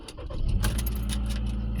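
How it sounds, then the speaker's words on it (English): A car being started, keys jangling and the engine catching and settling into a steady idle, close and alone. "starting the car."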